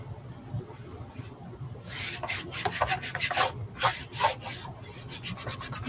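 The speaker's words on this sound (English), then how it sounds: "And we're gonna burnish him down." Someone burnishes a Chalk Couture Disney transfer onto a clipboard: rapid, close rubbing and scraping strokes come in bursts for several seconds after a quiet start, with no talking.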